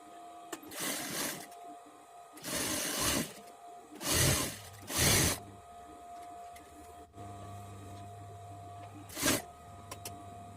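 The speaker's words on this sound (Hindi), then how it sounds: "इसी तरह से आई की पट्टी पे भी एक स्टिचिंग और लेंगे।" Sewing machine stitching a hook-and-eye strip on a katori blouse, running in four loud bursts of rapid whirring with pauses between, then a final short burst, with a low motor hum carrying through the gaps.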